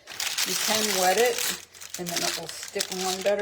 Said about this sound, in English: the way you get your parchment paper to stay in there is just crunch it up like that